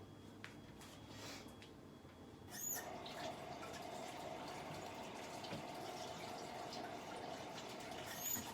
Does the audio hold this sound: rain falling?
no